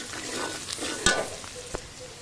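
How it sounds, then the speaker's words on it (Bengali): Onions sizzle softly in a pan on a clay stove while a utensil scrapes and stirs, with a couple of sharp knocks against the pan. "তো দেখতে পাচ্ছেন আম্মু এখানে ভালোভাবে নেড়ে চেড়ে নিচ্ছে"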